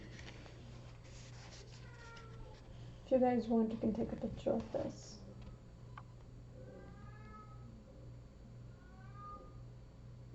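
A cat meows at a door, wanting to come in, a few short high cries heard faintly from a distance while a person talks nearby over a low steady hum.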